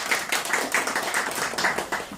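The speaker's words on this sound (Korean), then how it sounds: "박수 한번 보시겠습니다" Audience clapping in a church gathering at Incheon Full Gospel Church, a steady patter of hands, fairly light and moderately close, with no talking over it.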